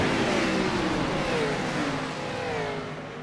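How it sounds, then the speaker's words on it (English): Roaring race car engines at Daytona in iRacing rev and accelerate steadily together, a loud continuous drone with rising pitch sweeps layered over dense engine noise. "Greg Evans is going to hit the loud pedal"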